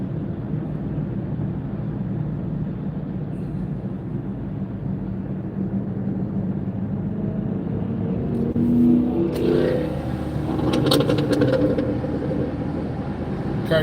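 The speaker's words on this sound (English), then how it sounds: "Car's just making noise." A car engine drones steadily while driving on the road, a constant close rumble that swells and rises in pitch near the end as the car accelerates, with no voices.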